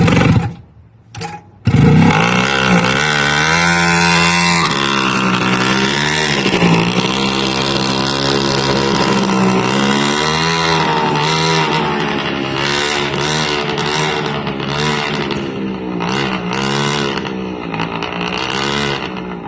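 A mini bike with a custom exhaust engine revs loud and close after a brief sputtering start, a steady throttle-held roar with shifting pitch sustained throughout, no talk over it.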